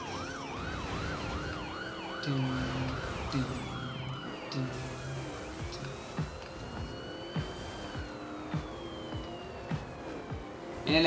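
Several police sirens wail and yelp at once over rumbling car engines in the racing video game The Crew, a busy chase soundscape that continues throughout with shifting, overlapping tones.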